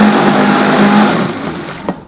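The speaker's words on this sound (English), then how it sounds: "That's why I like the VITAMIX, just to kind of help me blend it more." A Vitamix blender whirs steadily while blending thick sea moss gel, a loud continuous motor drone with a faint tonal hum that fades toward the end, followed by a couple of soft clunks.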